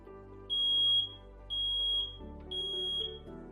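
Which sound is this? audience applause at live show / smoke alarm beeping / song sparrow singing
smoke alarm beeping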